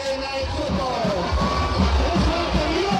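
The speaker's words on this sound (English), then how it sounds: "Listen to the crowd." Crowd noise at a high school football game fills the stands with a steady roar of voices and scattered cheers, with the noise rising slightly near the end.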